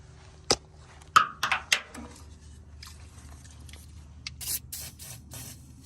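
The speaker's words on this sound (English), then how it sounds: "we're gonna go ahead and spray her with some PB Blaster" Several short hissing bursts from an aerosol can of PB Blaster penetrating oil, close by, followed by a longer spray and quiet handling noises.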